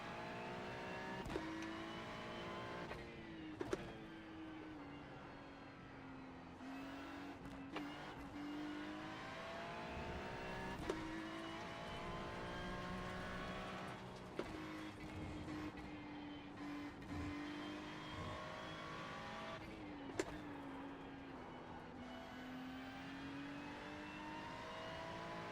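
A GT3 race car in a racing video game laps Watkins Glen with a steady engine whine that rises and falls through gear changes, broken by several sharp upshift clicks and brief braking dips, with no voices.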